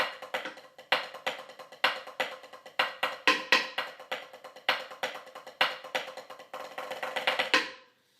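Section D of the Apollo drum cadence is played on snare in crisp, close strokes, a driving pattern of accented hits and quick rolls that builds toward a dense final flurry before stopping.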